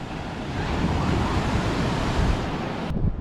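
Strong wind gusts across a sunny open beach at Hearst Beach, San Simeon, with low broadband roar and surf mixed in, steady and loud throughout before dropping off abruptly near the end.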